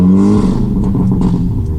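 A BMW 5 Series fitted with a 2JZ engine and an opened-up exhaust roars close and loud, its raspy engine note holding steady with slight wavers throughout.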